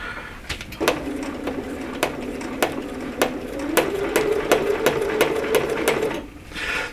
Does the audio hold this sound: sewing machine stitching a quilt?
yes